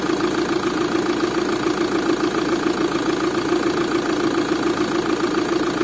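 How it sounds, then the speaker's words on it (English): A VW Passat or Golf engine idles steadily, a continuous mid-low hum with a faint knocking texture, close and even throughout with no talk. "let me stop the engine"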